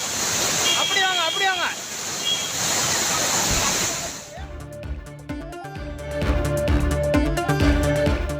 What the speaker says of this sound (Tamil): தென்காசி மாவட்டம் பழைய குற்றால அருவியில் திடீரென பாய்ந்த காட்டாற்று வெள்ளம்